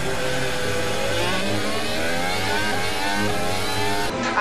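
A 2018 Formula One car accelerates hard after a safety car restart, its loud, high engine note climbing steadily through the gears with no break, then briefly dropping off at the very end.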